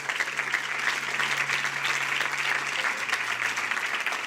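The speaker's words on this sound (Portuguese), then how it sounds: "Você pode aplaudir Jesus aí só para eu tomar um pouco de água" A church congregation applauds steadily throughout, a dense, continuous wash of clapping with a low steady hum underneath and no talking.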